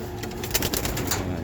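Racing pigeons coo softly inside a breeder loft, their low murmurs blending into a busy, noisy room close by.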